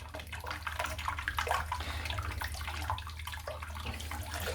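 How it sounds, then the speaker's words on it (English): Running water rinsing shaving soap off, steady splashing flow from a tap with shifting spatter as hands move under the stream, no talking. "let's just rinse the soap off"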